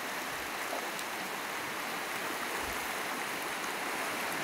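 Floodwater still running about five feet deep two hours after a storm, a steady broadband rushing wash like a swollen stream, continuous and even throughout with no voices.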